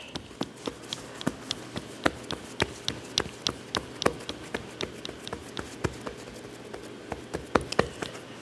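Biscuit dough being patted out by hand, a steady run of soft, close slaps and taps at an even quick rhythm, heard alone without talk.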